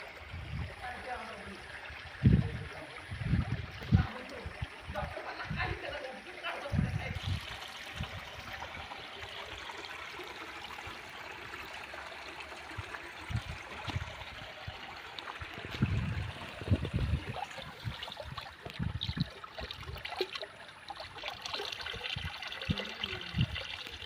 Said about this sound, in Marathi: आणि वाहत्या पाण्यात आपण चिकन धुतोय एकदम शुद्ध पाणी नॅचरल